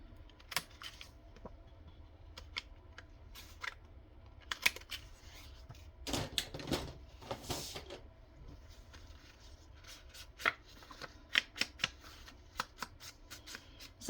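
Old photographs being trimmed at the corners while crafting vintage paper pockets: crisp paper rustles and sharp snipping clicks come close up in irregular bursts, busiest in the middle, with no talking.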